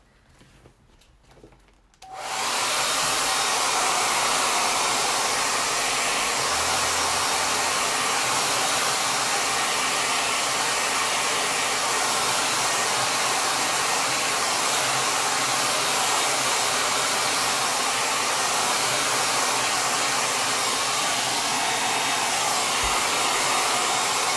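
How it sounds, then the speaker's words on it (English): After a brief quiet start, a blow dryer switches on and runs loud and steady, a constant whooshing roar that continues to the end. "I'm going to just grab the blow dryer and just hit this quick for Victoria"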